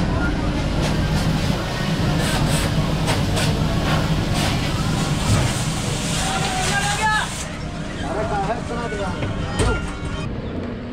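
The Raptisagar Express passenger train running on the rails in Uttar Pradesh, a loud continuous rumble and rattle heard from inside the carriage, with people talking over it and brief squeals near the end.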